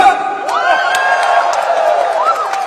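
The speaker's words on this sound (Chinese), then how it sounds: "让我们一起用最热烈的欢呼声和掌声，再一次期待一下两位选手的精彩表现" A loud, close crowd cheers and shouts at a WBO boxing title fight in a steady roar, with rising whoops and whistles over it.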